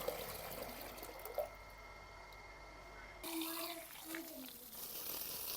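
Water pours from a household tank into a vessel in a village home, giving a steady low splashing stream that changes character partway through as the flow shifts.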